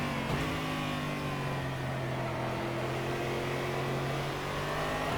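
A stock car's big front-mounted engine drones steadily in the Automobilista racing game, a loud sustained mid-pitched hum with a brief rise at the start and no speech.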